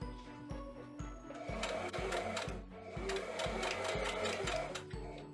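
A sewing machine stitches fabric around a curve, its needle thumping in a steady, even rhythm that pauses briefly and resumes, close and clear with a light mechanical whir.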